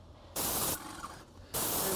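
A paint sprayer hisses in two sharp bursts while coating the trim and frame on a house exterior, loud and close, with a quieter stretch between them.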